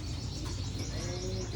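Japanese racing pigeons coo faintly in brief throaty notes beneath a steady, loud wash of background noise.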